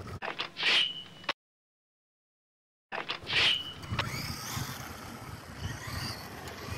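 A Traxxas Bandit VXL RC car on street tires whines through a speed run, its high electric motor pitch rising and fading in two close passes separated by a brief dropout, then a steadier buzz from further off.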